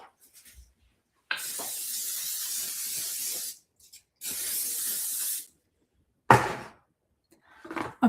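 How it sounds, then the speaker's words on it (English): Several long hissing bursts of cooking spray onto a silicone muffin pan, each lasting one to two seconds, with short pauses and a small clatter between them, close and alone with no talk. "Should I spray this? It's silicone."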